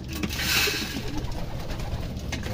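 Pigeons at evening feeding time, a flock's soft cooing and fluttering close by in a continuous busy wash, with no voices.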